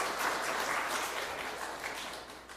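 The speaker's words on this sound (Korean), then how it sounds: "이 훌륭한 의인의 자손을 위해 격려 박수" Congregation in a church sermon giving a round of encouraging applause, dense and steady clapping from many hands that fades slightly toward the end.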